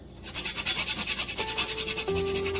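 A topping is grated over a tomato walnut salad in quick, rhythmic rasping strokes, about a dozen scrapes in a row. A few short clinks and tones come in near the end.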